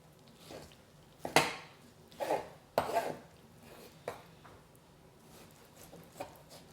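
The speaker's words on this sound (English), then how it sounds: "I'm gonna cube it." A knife cuts a large pork belly into cubes on a cutting board for burnt ends, giving several sharp chops and board knocks at an irregular pace, close and fairly loud, with quieter taps in between.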